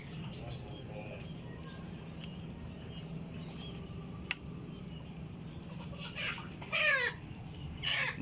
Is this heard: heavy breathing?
no